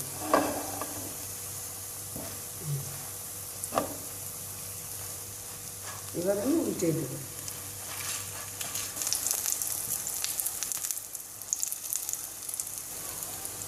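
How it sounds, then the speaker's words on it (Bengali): Drumstick-leaf fritters (sojne pata bora) fry in a pan with a constant bright sizzle that swells louder toward the end, broken by a few scrapes and knocks and a short spoken remark. "তাহলে বড়াটা ভাজা অনেক সুন্দর হবে"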